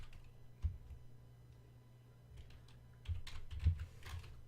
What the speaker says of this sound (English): I'll have to type it, will I?